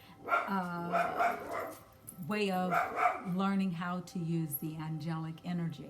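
Two pet dogs bark and yip in short bursts in a home, heard in the background under a person talking steadily.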